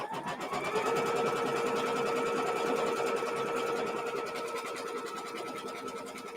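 A home sewing machine stitching a Diamond in a Cross quilt block runs at a steady, even hum with a rapid needle rhythm, close and loud, with no talking over it.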